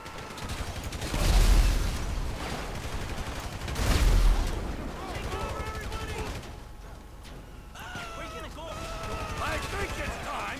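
Two heavy explosions burst about two seconds apart in a bar in GTA V, followed by a stretch of crackling, popping game action with some talk mixed in.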